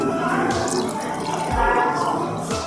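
Warm water is poured into a glass beaker in a classroom science experiment, a steady close trickling splash lasting a few seconds.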